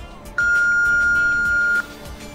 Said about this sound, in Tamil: இந்த மாதிரி ஆப்ஜெக்ட்ஸ் வந்து எதிரில் வரும்போது இந்த மாதிரி பீப் சவுண்ட் வரும்.